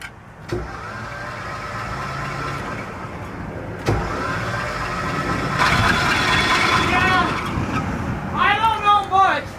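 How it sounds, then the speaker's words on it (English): A first-generation Cummins diesel pickup's engine cranks and sputters unevenly, failing to catch cleanly, with voices talking over the rough, loud mechanical noise. "my truck isn't supposed to sound like that when it's trying to start up"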